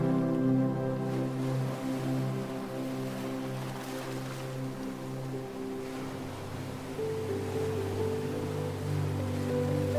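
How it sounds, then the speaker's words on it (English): Soft ocean waves washing in a calm, continuous hush with gentle swells, steady and moderately quiet under a low background tone, with no voices. "You begin to count the waves."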